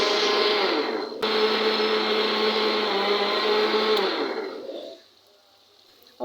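A blender grinds a mixture of homemade yogurt and gram flour, a loud steady whirring drone up close that runs for about four seconds, then winds down and stops, with no talk.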